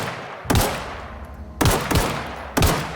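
Three sharp gunshots ring out in The Outer Worlds, each a loud, close crack spaced about a second apart, with a brief decaying tail and quiet between them.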